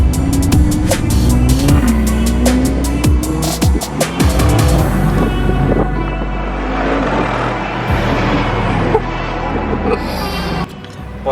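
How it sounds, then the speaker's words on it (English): A Mercedes G-Wagon with a loud, aggressive exhaust drives on a road, its engine revving and rising in pitch through gear changes with rapid crackles and pops, heard close and loud throughout. "this G-Wagon is a Mad Max. Sounds so good, it's really aggressive."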